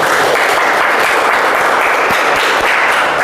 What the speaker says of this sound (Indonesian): Kita tutup dengan tepuk tangan untuk kita semua.